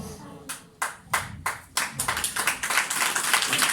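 An audience at a church sermon claps, starting with a few scattered separate claps that quickly build into dense, continuous applause, moderately close.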